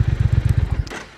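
A 2019 Triumph Thruxton R motorcycle engine with its stock exhaust gives a close, deep, bassy idle of about nine even thumping pulses before fading out.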